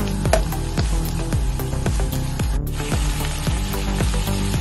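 Tilapia fish frying in a pan for paksiw, a steady close sizzle running throughout with repeated clinking strikes layered over it and no talking.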